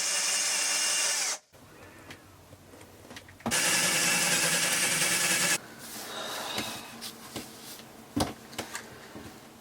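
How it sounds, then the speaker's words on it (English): A power drill whines loudly in two long bursts with a pause between, drilling holes through into a boat's lazarette, followed by scattered clunks and handling noises. "After drilling all the holes all the way through to the back"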